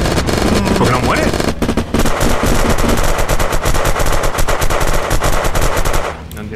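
Loud, nonstop automatic gunfire in the zombie survival game Unturned, rapid machine-gun bursts with scattered single shots that run for several seconds before cutting off abruptly near the end.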